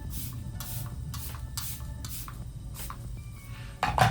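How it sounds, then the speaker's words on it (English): Makeup setting spray is misted generously onto a face in a string of short, soft hissing bursts, about seven pumps with brief pauses between them, close and quiet. "Now I'm gonna go in with my setting spray, and I like to go in pretty heavy."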